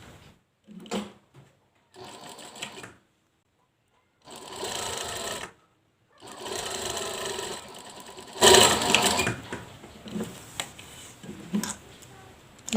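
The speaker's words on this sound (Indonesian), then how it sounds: "lanjut kita jahit di bagian yang satunya ya. Kita jahit juga dari bagian dalam ya" Sewing machine stitching along the inner side of a fabric piece, running in several separate bursts of steady mechanical whirring separated by brief pauses, close and clear.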